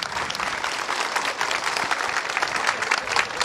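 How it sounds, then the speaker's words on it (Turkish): Hospital staff gathered outside the hospital applauding together, a dense, steady wash of many hands clapping at once, loud and sustained with no pauses. "Evet, alkış seslerini duyabiliyorsunuz."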